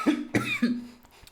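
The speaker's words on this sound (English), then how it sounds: "In the first take, I was coughing like this as well" A person coughs three times in quick succession, close and loud, the final cough trailing into a throaty rasp.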